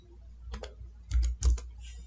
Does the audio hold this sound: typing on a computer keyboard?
yes